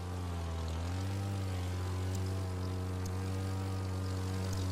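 Propeller plane engine droning steadily in flight in the racing video game The Crew 2, a loud continuous buzzing hum with a slight pitch shift early on, heard alone without talk.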